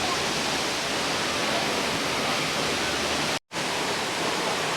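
Waterfall near the Ellora caves, a constant broadband rush of falling water, loud and close, interrupted only by a brief cut.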